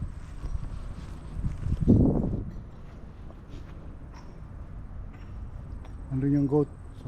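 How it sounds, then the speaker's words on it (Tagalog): A horse's hooves clip-clop on the ground at a heritage village museum, sounding faint and somewhat distant under insect chirping. A voice speaks briefly near the end. "Kabayo."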